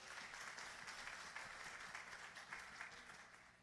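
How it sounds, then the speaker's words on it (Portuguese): A women's church conference crowd applauds single mothers with dense, continuous clapping that holds steady and fairly distant for the whole stretch, with no talk over it. "E eu queria convidar todas a dar uma salva de palmas a elas"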